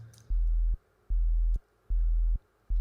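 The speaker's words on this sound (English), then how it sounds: "when you open that up, it's just the basic sine wave" A basic sine wave from the EX24 sampler, heard as four steady low pulses, each lasting about half a second and separated by short gaps, loud and clean with no voices.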